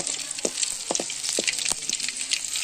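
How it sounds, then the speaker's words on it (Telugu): Garlic frying in a pan for a beetroot fry, a bright, steady sizzle with scattered crackles and a few soft stirring knocks through the short stretch, and no voices. "తెల్లగడ్డలు వేసుకున్న తర్వాత బాగా ఫ్రై చేసుకోవాలి."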